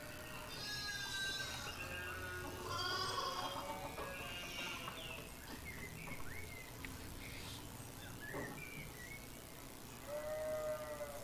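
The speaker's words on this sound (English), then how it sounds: "These bloody sheep." Sheep in the abbey pastures of the video game Pentiment bleat repeatedly in a steady run of wavering calls over a constant low ambient bed, some calls nearer and louder, others fainter.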